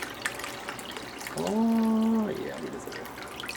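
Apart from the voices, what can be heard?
water being added to bolognese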